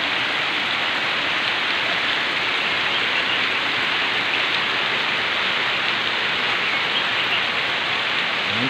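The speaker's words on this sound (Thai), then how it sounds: "ฝนตกหนักมากแต่ไม่มีลมนะ" Heavy rain pours down steadily with no wind, making a dense, even hiss of drops hitting surfaces that stays constant and fills the whole stretch.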